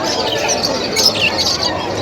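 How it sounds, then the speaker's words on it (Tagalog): Pigeons and other birds at the Malabon pet market in the Philippines give close, loud chirps, squawks and coos over busy market noise, with scattered calls across two seconds. "Daming kalapate oh."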